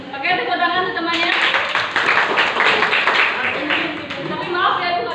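Classmates applaud a friend in a school classroom, loud sustained group clapping that kicks in after the first second and carries on with voices mixed through it.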